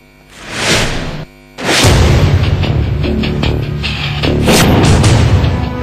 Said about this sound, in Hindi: लगातार गोलियों की आवाजें गूंज रही हैं।